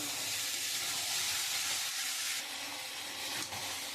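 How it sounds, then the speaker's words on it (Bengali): Green peas fry with spices in a pan for ghugni, giving a soft, steady sizzle and hiss up close, with a brief stir or scrape about midway. "আমি মটরশুঁটিটা দিয়ে আর একটু কষিয়ে নেব"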